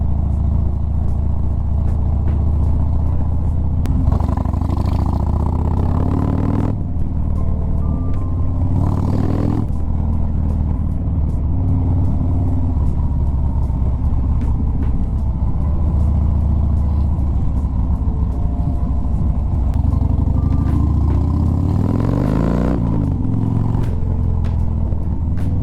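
A motorcycle out on the road for its first ride of the season, its engine droning loud and steady with a few brief shifts in pitch as it accelerates and eases off, constant wind-like rumble, no voices.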